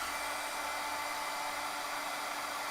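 A heat tool blows steadily to dry ink on a handmade card, giving a constant, even whoosh and whine that stays loud and unbroken from start to finish with no talking.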